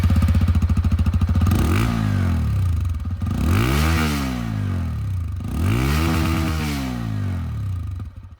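Exhaust note of a 2023 TVS Apache RTR 160 2V E20 motorcycle, loud and close. A steady idle thrum is broken by three rising and falling revs, and no one speaks.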